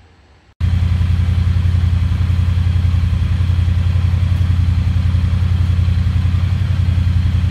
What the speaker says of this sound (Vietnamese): bây giờ thì mình đang nổ máy của cái em T100 cho mọi người nghe ha